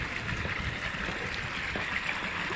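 Hot spring water flowing at the Burga de Agua Caliente public thermal fountain in Caldas, a steady, fairly loud rushing wash with no gaps.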